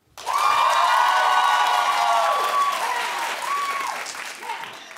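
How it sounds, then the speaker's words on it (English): A studio audience claps and cheers for a prom question at a Dancing with the Stars celebration, loud and sustained, with whoops and shouts mixed into the clapping. "Clap if you went to your prom."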